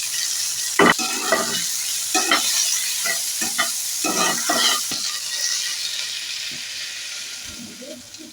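Onion, tomato and slit green chillies soften in a pan with salt: a low, even sizzle broken by repeated bursts of spatula stirring and scraping, with no one speaking.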